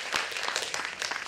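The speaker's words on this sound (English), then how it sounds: "stand up and give them a big round of applause" A standing audience at a fourth-grade end-of-year school concert applauds the student performers, a brief, dense wash of clapping with faint cheering mixed in.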